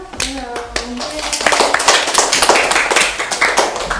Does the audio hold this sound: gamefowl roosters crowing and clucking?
no